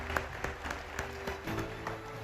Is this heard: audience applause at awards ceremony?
yes